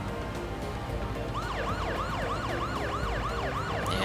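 A car siren from the video game Parasite Eve wails in repeated rising and falling sweeps that begin about a third of the way in. It sounds steady and fairly loud over a dense, continuous game music backdrop.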